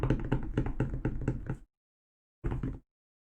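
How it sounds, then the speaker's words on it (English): Fingers tapping on a desk under a microphone on a boom arm, a quick run of about seven close, dry knocks, then a pause and one short final burst. "tap, tappy on the desk here"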